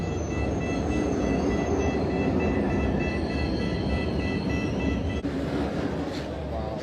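A Cairo metro train rumbles loudly and continuously, with a steady mechanical whine riding over the deep running noise and a brief jolt near the end.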